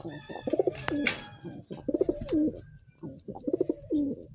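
Racing pigeons coo in their loft, where breeding birds sit on eggs. Three rolling, throaty coo phrases come close and clear, with soft shuffling and faint chirps between them.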